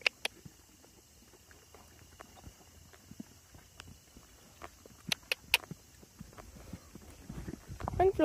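Horses walking on a ride while one horse is led alongside another, hooves clip-clopping in scattered, irregular steps at moderate distance, with brief talk near the end.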